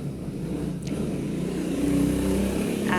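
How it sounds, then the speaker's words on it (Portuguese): Motorcycles driving past outside a home, a muffled engine drone that swells and fades as they pass, heard indoors at moderate distance, with no talk. "Aí ficam para lá e para cá de moto, fazendo o maior barulho."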